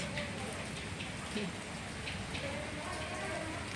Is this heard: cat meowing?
no